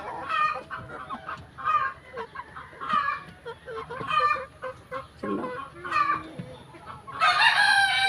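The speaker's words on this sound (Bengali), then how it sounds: "আমার ফার্মি মুরগি আলহামদুলিল্লাহ ভালো আছে" Farm-raised laying hens, freshly given Ranikhet vaccine in water, cluck and squawk close by in repeated rhythmic bursts, ending with a loud rooster crow.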